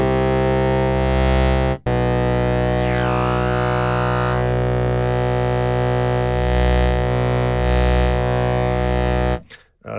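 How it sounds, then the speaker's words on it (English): Sequential Pro 3 synthesizer run through its dedicated distortion, separate from the filter overdrive, holding a steady, buzzy distorted drone with rich layered harmonics and a brief swept tone early on, cutting out for a moment and again at the end. "There's a dedicated distortion."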